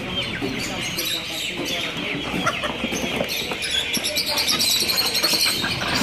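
Roosters and hens cluck and call at an outdoor market in Ponte de Lima, Portugal, a dense continuous chorus of fowl mixed with crowd chatter and general market bustle.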